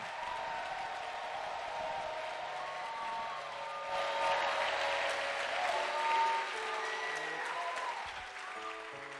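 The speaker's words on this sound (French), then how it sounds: "Acclamez pour le Seigneur." A congregation at a church service in Mampong, Ghana applauds for the Lord: sustained, dense clapping from a large crowd that swells midway and then eases, with no talk over it.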